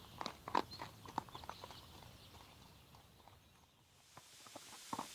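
Horses walk along with hooves clip-clopping in scattered, uneven steps, fairly close and moderately quiet, with a faint bird now and then.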